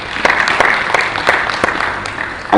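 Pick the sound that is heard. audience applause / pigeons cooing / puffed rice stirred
audience applause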